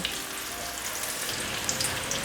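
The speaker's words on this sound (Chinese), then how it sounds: "把香菇角炒成表面有焦感，让它的香气炒出来" Diced shiitake mushrooms sizzle and crackle as they are stir-fried in a pan, a dense, continuous frying hiss close up with small popping spatters.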